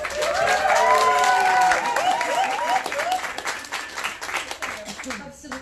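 An audience applauds at the launch of the book "Hello, Can You Hear Me?": full, close clapping from a crowd with cheering voices over it early on, thinning out and tapering off toward the end.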